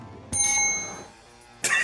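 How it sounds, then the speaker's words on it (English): A small bell rung once, a bright metallic ding that rings on and fades, then a second strike at the very end, loud and close. "Even our bell doesn't work."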